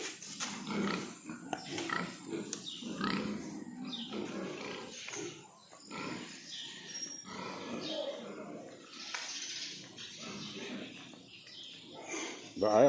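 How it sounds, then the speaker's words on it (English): Farm pigs grunt and snuffle faintly in irregular bursts, with someone talking over them at a low level. "I have been feeding them quite a bit of feed, these pigs"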